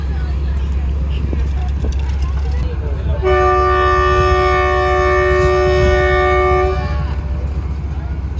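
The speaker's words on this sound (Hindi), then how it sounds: "चलिए ये फाइनल विसल हो गया" A train horn sounds a long sustained whistle as the Karachi Express departs Rohri Junction, following a low rumbling idle and clatter on the platform; the horn holds loud and steady for about three and a half seconds, then cuts off.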